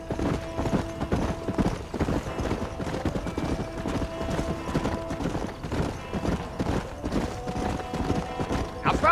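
Horse hooves from Red Dead Redemption clip-clopping in a steady, brisk rhythm on a dirt road, close and continuous throughout with a faint jingle of harness and tack.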